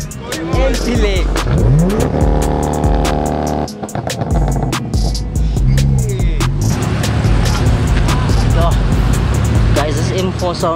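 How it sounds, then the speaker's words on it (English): A BMW M4 engine with anti-lag pops and crackles loudly at a busy car meet, its revving and bangs close and continuous amid other engines, with voices over the noise. "M4 sound like it has got anti-lag or something"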